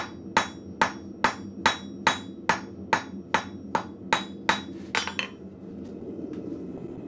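A blacksmith beats metal stock under half an inch with a 2-pound cross peen hammer, a dozen sharp ringing strikes at a steady pace, close and loud over a low shop hum, then quiet.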